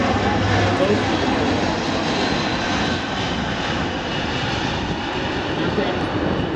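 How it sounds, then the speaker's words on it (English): A Boeing C-17 transport jet making a low-speed pass at the 2009 California Capital Air Show produces a loud, steady, broadband engine roar that holds for several seconds with little change. "This aircraft is really maneuverable both at high speeds and low speeds."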